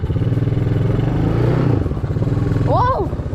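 A quad bike (ATV) with a freshly repaired, completely new engine revving steadily while being ridden, a low throbbing drone with rattling clatter, close and loud, with a brief voice near the end.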